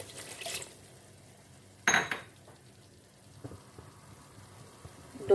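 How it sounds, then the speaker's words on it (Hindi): A little water splashing into a pan of spice mix for Lahori chana, one brief sizzling burst amid quiet kitchen clinks and soft scraping. "थोड़ा सा इसमें हम पानी डाल देते हैं।"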